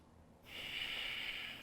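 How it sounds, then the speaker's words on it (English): A long, deep exhale during a yoga flow, a soft breathy hiss rising suddenly and held steadily for about a second, close and quiet with no talk. "deep exhales."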